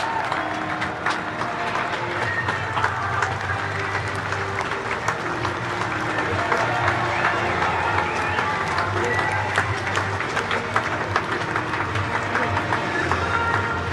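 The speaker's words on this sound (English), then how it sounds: "That applause is coming from the heart." Racecourse crowd at a Punchestown steeplechase applauding the horse Sprinter Sacre: dense, sustained clapping from a large crowd with cheers mixed in, steady and loud throughout, with a voice talking over it.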